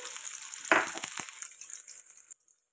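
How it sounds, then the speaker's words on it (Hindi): Finely chopped onion hits hot oil with cumin already in the pan, a sudden loud sizzle and rattle that settles into a steady frying hiss before cutting off abruptly. "हम यहाँ पे डाल देंगे ये प्याज बारीक काटा हुआ इसको अच्छे से फ्राई करेंगे"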